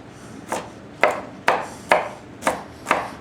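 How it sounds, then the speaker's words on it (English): A French knife dices pre-peeled garlic cloves on a cutting board, giving six crisp, evenly spaced chops about half a second apart, close and fairly quiet, with no voices. "with your French knife, start dicing them into smaller pieces."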